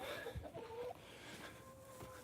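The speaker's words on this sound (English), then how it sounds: "these are the chickens." Backyard chickens cluck softly at close range, a few faint cackles and low calls against quiet background noise.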